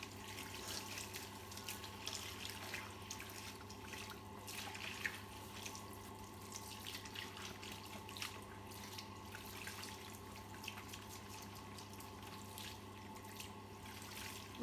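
Running water at a sink rinsing hair colour out, a steady, faint, continuous flow with soft splashing and no talk.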